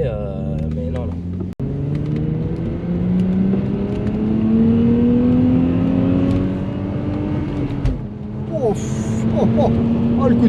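A 1994 Audi coupé accelerates hard through its gears, its engine note climbing steadily with a shift about a second and a half in and another near eight seconds. The engine sounds loud and close, with voices talking in the background.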